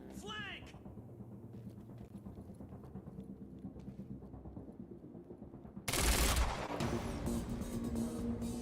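Rapid gunfire from a firefight in the video game Quantum Break, sharp cracks layered over a busy battle mix, jumping louder and denser about two thirds through, with a voice talking now and then.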